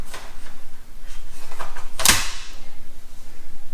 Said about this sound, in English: insert the mag